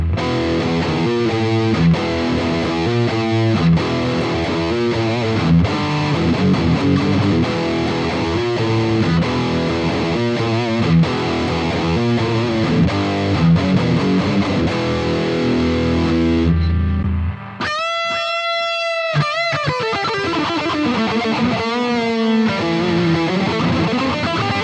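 Distorted electric guitar lead tone from a Gibson Explorer, an 80s-style model, played as a busy melodic line for about sixteen seconds, then a short gap and a few sustained, ringing bent notes, loud and up front with no talking.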